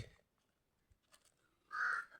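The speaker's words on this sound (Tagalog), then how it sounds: "Uwak-uwak ang sigaw" A single harsh crow caw rings out clearly after a few faint scattered sounds in an otherwise quiet outdoor setting.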